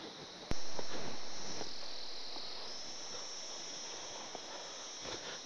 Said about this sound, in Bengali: ঝিঝি পোকার ডাক